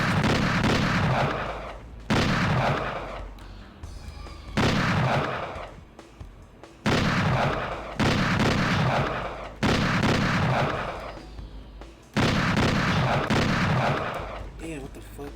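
Gunshots in the PS1 game Hellboy: Asylum Seeker, fired as six loud, evenly spaced volleys, each roughly a second long, separated by quieter gaps of fading echo.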